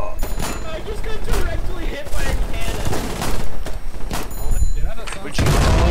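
Heavy booming cannon blasts and gunfire in the video game Foxhole crash repeatedly in quick succession, loud and close, with overlapping explosions.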